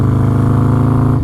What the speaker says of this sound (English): with a custom Fab 28 exhaust, so it is a very loud bike